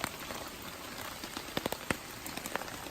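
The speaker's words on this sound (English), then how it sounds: "while it's raining" Rain falls steadily on a hammock campsite at Steel Creek Campground, a dense continuous patter with scattered louder drops landing on nearby surfaces. No one speaks.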